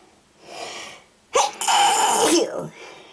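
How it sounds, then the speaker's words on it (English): A single loud, close sneeze, preceded by a quick sharp inhale. "I'm going to sneeze"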